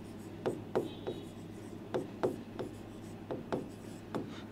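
Chalk or marker strokes on a classroom board during a physics lesson, a series of short scratchy taps and rubs in an irregular rhythm, close and fairly quiet over a steady low room hum.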